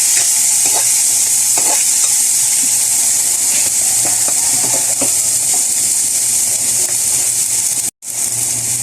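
Tomatoes sizzle loudly in hot oil in a pan with smoked fish (tinapa) and sardines, steady frying hiss throughout, with soft scraping of a spatula stirring now and then, close up, cut briefly near the end.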